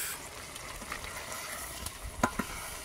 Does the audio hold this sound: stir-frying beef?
yes